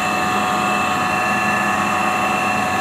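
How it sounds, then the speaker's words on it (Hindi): A vacuum pump on a PVC pipe degassing unit drones loud and steady with a constant tonal whine, a continuous machine roar with no pauses or voices. "ये वैक्यूम पंप डीगैसिंग यूनिट का स्टार्ट कर दिया गया है।"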